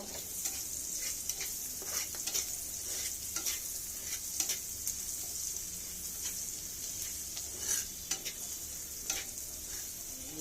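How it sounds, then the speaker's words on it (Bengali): Salt being stirred into frying pumpkin in a pan, a steady high sizzle with scattered scraping clicks from the spoon throughout, no voices. "পরিমাণ মতো লবণ ভালো করে নেড়ে মিশিয়ে নেব"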